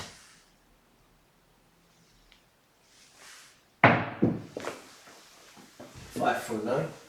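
Dice thrown onto a craps table land with a sudden sharp clatter after a quiet stretch, followed by a few further knocks and soft voices in the background.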